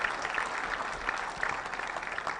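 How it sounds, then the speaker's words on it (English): An audience breaks into a round of applause, dense clapping sustained at a steady, fairly loud level with no voices heard over it. "Just give him a round of applause"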